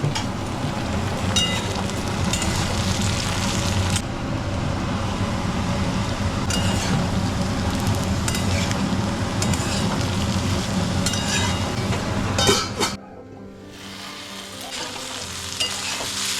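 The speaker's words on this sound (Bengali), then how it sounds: "এদিকে হচ্ছে আলু, পেঁয়াজ আর ডিম ভাজা।" Potatoes, onions and eggs fry together in a pan for a quick dinner, a continuous close sizzle with occasional stirring scrapes and clinks before it drops off abruptly to quieter background.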